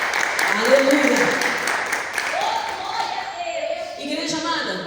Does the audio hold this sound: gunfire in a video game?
no